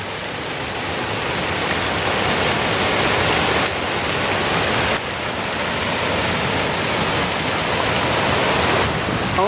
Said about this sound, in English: And the fountains here are spraying water almost in tribute.